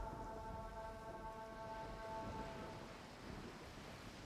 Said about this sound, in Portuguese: quando o mar arrebenta no buraco, o barulho parece ser de trovão e pode ser ouvido de longe